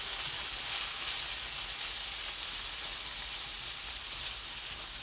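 Garlic, tomatoes and onions cooking in a pan give a steady, dense sizzle and hiss that holds evenly throughout, close and continuous with no talking.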